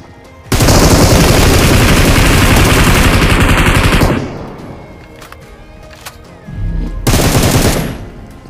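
An M249 machine gun in PUBG/BGMI fires a loud, close burst of rapid, continuous shots for about three and a half seconds, and a second short burst follows after a quieter pause.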